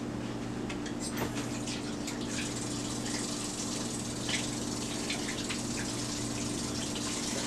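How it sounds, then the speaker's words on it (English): Hands being washed under a running kitchen tap, a steady close gush of water with small splashes and no talking. "Let me take a minute here and wash my hands."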